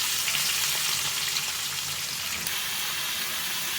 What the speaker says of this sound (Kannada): ಈರುಳ್ಳಿ, ಆಲೂಗಡ್ಡೆ ಚೆನ್ನಾಗಿ ಫ್ರೈ ಮಾಡ್ಕೊತಾ ಇದ್ದೀನಿ.